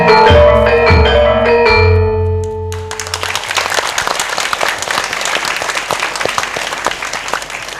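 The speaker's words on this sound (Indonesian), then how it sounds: "Saya minta tepuk tangannya meriah lagi ya." Music with sustained tones gives way after about three seconds to lively audience applause at a community empowerment event in Brebes regency, the crowd's clapping bursting in and continuing briskly, crisp and fairly close, to the end.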